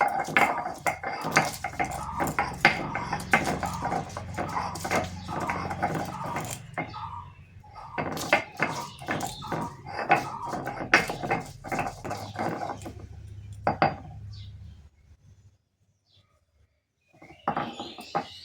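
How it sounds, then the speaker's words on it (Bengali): Garlic cloves being ground on a traditional stone grinding slab (shil): a steady run of rhythmic scraping, knocking strokes, close and fairly loud, for about fifteen seconds before falling quiet, with a brief knock near the end. "আমি এখন শিলের মধ্যে রসুনগুলো বেটে নিই।"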